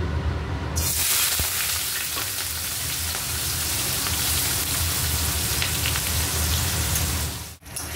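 Sliced onions frying in white oil in a kadai over high flame for chicken biryani, giving a steady, dense, close sizzle like heavy rain that continues unbroken throughout.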